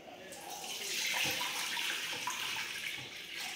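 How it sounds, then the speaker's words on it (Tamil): Water poured into a pot to dissolve jaggery gives a steady, fairly faint splashing rush that keeps up without a break for several seconds, with no talking over it. "இப்போ வந்து நான் வெள்ளமும் போட்டு தண்ணி வந்து விட்டுருக்கேன்"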